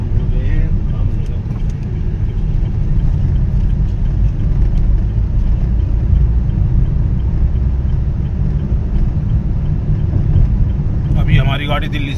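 A car travels along a highway out of Delhi toward Ramnagar, its engine and road noise a continuous loud low rumble inside the cabin, with a brief higher rattle near the end.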